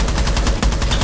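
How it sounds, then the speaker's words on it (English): Dense, rapid gunfire from Rainbow Six Siege shooters firing into smoke, a loud continuous burst of overlapping shots with sharp cracks throughout and no talking. "Shoot into the smoke."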